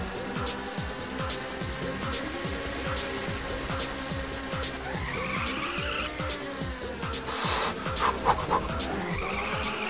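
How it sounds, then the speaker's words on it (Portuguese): Tires squealing as a car drifts through corners in the Ridge Racer video game, a continuous skid over engine whine and background music, loud and close, with brief excited talk from a player. "Não, não era pra ter feito o drift."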